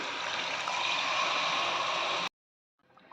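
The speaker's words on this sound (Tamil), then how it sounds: "கெட்டியான தேங்காய் பால் ஊற்றிக்கலாம்" Thick coconut milk pours into tomato chicken cooking in a pan, giving a steady liquid hiss and gurgle for about two seconds before cutting off abruptly, followed by faint bubbling.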